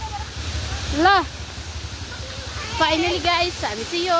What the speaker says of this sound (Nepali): छरछरे भनेको चाहिँ यहाँ हो यसरी पानी आउँछ हेर्नुहोस्